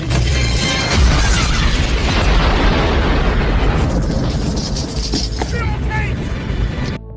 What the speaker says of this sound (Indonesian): tewas akibat ledakan tersebut